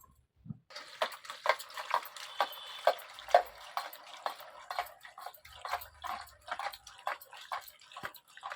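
Small chuno fish are rinsed and rubbed in a basket of water, producing irregular close splashes, drips and trickles in a quiet room.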